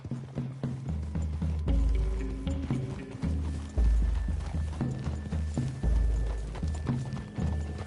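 Horses gallop in Red Dead Redemption 2, their hooves pounding in a quick, continuous rhythm over a loud, low musical drone.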